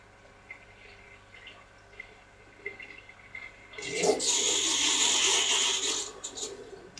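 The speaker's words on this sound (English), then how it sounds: "that noise is the fish tank" Faint clicks and trickles, then a sudden rush of gurgling, splashing fish tank water that runs steadily for a few seconds before easing off.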